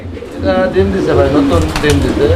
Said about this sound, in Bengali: এটা হচ্ছে শেখর কবুতর একটা জোড়া লাল শেখর এই যে দেখেন নটটা বাইরে ডাকাডাকি করতেছে